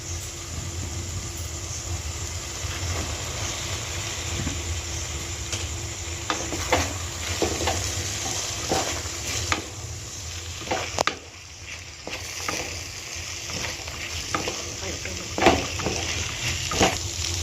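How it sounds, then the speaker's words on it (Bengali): Boiled potatoes and eggs are stirred and sautéed with oil-released spices in a wok, a continuous sizzle with scraping stir strokes and clattery bursts throughout. "ভালো করে কড়াই আলুটা মশলার সাথে কষিয়ে নিচ্ছি।"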